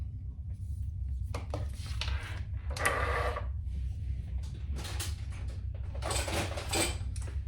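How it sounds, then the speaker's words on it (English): Tiny screws are driven by hand into a fabric train case, giving a series of short scraping and clicking bursts separated by pauses, close and fairly quiet. "And then we will screw those in."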